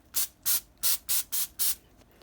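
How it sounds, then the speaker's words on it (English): Six short hissing bursts of cooking spray grease coating the bottom of a 9x13 baking pan, evenly spaced and close, each lasting about a quarter second with quiet gaps between. "Just going to do a light spray of spray grease on the bottom"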